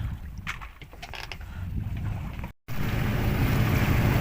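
A sailboat's auxiliary engine runs steadily in calm conditions at sea, a continuous low mechanical drone mixed with water and wind noise, with a brief cut partway through before the hum resumes, louder and fuller.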